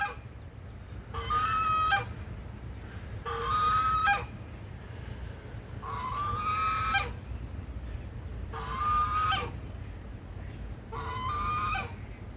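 A gander, a male goose, honks in five loud, close bursts of harsh calls, with short pauses between them, over a steady low background rumble; no one speaks.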